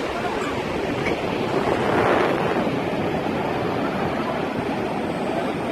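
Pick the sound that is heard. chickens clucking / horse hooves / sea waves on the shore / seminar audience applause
sea waves on the shore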